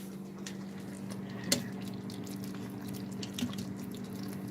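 A pot of homemade pasta bubbling on the stove, soft wet popping and dripping with a steady low hum and a couple of sharper bubble bursts.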